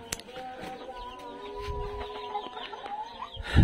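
Farm chickens in hot weather cluck softly and faintly with a few quiet tonal calls, while low thumping rumbles rise near the end.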